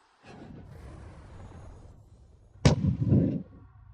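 A fantasy cannon blast called the Eternal Night Demonic Cannon fires with a sudden sharp boom after a low rumbling build-up, followed by a roaring, crackling burst that fades out over about a second.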